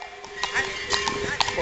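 Horses being driven across a bridge, hooves clip-clopping in an irregular walking rhythm, fairly close, with people talking and calling out over them.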